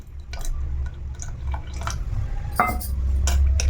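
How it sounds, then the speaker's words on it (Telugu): Tamarind water being poured into a cooking pot for a dal dish, soft splashing and dripping with a few clinks of a vessel, fairly close and quiet, without any talk. "ఆ వాటర్ ఇందులో వేసేస్తున్నాను"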